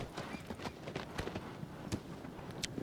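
A horse's hooves clip-clop in an even, walking rhythm in the video game Shadow of the Colossus, close and fairly soft, with a brief whinny-like sound near the end.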